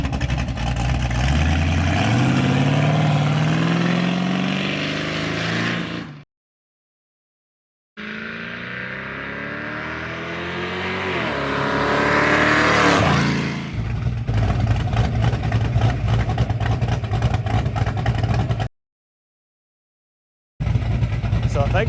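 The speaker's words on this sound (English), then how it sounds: "these exhaust cutouts were a great addition. It really makes this little motor sound good, gives it some character" A 1969 Mustang Fastback with a small-block V8 and open exhaust cutouts roars past outdoors, revving and rising then fading, with silent gaps between passes and a later loud steady burble, some voices mixed in.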